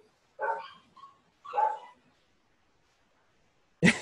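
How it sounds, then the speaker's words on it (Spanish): A small dog barks a few times from downstairs, distant and muffled, two short barks with a faint yip between them, followed by quiet and then a sudden close thump or clatter. "se escucha un perrito, es mi perrito"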